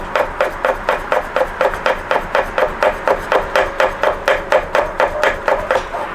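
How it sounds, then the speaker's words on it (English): A knife chops an onion into slices on a cutting board in a hibachi kitchen, with about two dozen quick, evenly spaced, crisp strikes in a steady rhythm, close and alone. "So for this, you just want to go ahead and chop in slices."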